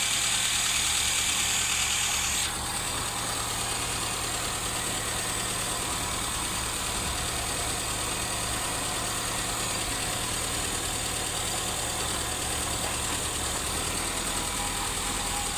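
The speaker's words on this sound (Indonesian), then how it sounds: "mesinnya masih dalam posisi hidup" A car engine idles steadily with a low, even hum through the whole stretch while its alternator is checked, a brief brighter hiss fading out early on.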